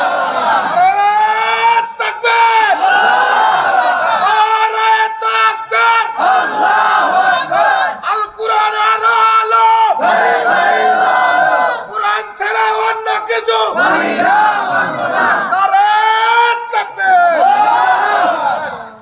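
A large crowd at a religious gathering shouts Allahu Akbar in unison in reply to a takbir call, repeated loud chanted roars that rise and fall over about nineteen seconds, close and forceful.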